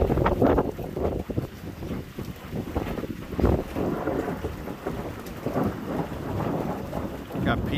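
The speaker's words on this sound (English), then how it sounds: "Got pea-sized hail." A prairie thunderstorm near Moose Jaw, Saskatchewan, with a funnel cloud and pea-sized hail, brings continuous loud rumbling, wind buffeting the microphone and heavy pounding precipitation throughout.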